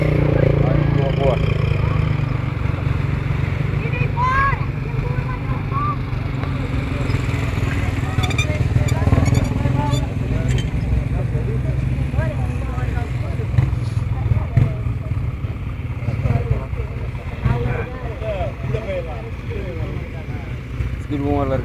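A motorcycle engine rumbles continuously with revving surges, mixed with street noise and people talking nearby, at an encierro bull-running street festival in Vale da Mula, Portugal.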